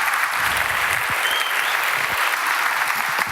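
A conference audience applauds a musician and technology adventurer with a dense, steady burst of clapping that fills the room, loud and continuous for a few seconds.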